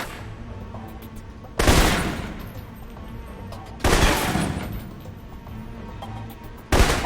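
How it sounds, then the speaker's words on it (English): Assault rifle fire in a video game comes in three loud, sharp bursts spaced a couple of seconds apart, each trailing off into a fading rumble, with no voices. "For long-range encounters, the assault rifle's the key. It's accurate, powerful. Just be sure to line up your shots carefully."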